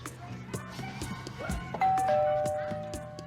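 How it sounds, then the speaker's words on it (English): A two-tone doorbell chime rings out clearly, its bright tones sustaining and fading, over a background of ongoing music and voices. "Doorbell. I heard it. Getting it."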